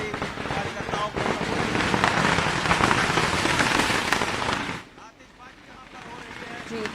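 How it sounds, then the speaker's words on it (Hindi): Dense crackling bursts of firecrackers at a 2024 Lok Sabha election result celebration outside a party office, a loud continuous rattle for about five seconds before it drops to a quieter, scattered background. "तो काफी पटाखे की आवाज भी आ रही है"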